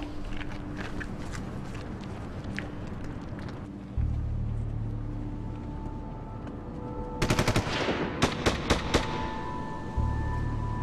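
Gunfire in a tense action film scene: a steady low rumble gives way to a sharp cluster of rapid shots, then a few spaced single bangs, heard without talk.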